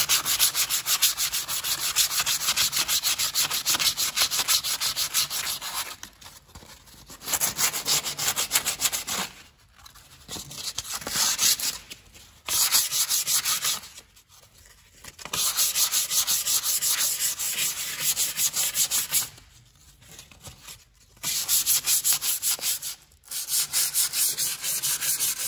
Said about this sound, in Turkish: şurayı zımparalamaya başladım.